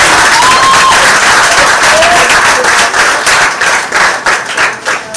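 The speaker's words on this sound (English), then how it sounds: "a round of applause is needed for the Hatters" Loud, close applause and clapping from a secondary school audience for a steel orchestra, full and sustained before tapering off near the end, with faint voices and whistles over it.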